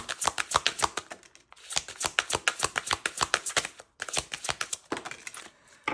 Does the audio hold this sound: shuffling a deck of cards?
yes